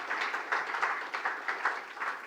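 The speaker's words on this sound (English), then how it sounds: "Please give him a round of applause" Brief applause from a conference audience for a tech speaker, a light patter of hands at a moderate distance, fading quickly with no voices over it.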